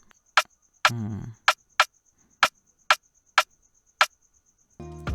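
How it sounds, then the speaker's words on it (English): A crisp snare drum sample from an Afrobeat beat in FL Studio hits repeatedly in a loose rhythm, sharp and bright. A brief turkey-like gobbling sound cuts in near the start and end. "did this sound. It's a snare."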